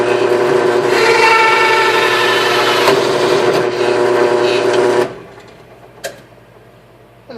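A power drill bores into a clamped pilot hole during a Super Skipjack boat build, running as a steady loud whine for about five seconds before stopping, followed by a brief knock and quiet handling.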